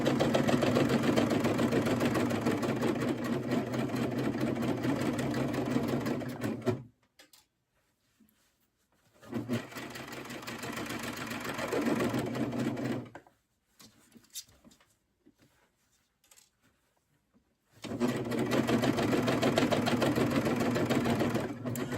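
A serger overlock machine hums along in fast continuous bursts while sewing a bucket hat, running for several seconds, pausing, running again more briefly, then starting back up with a steady mechanical whir.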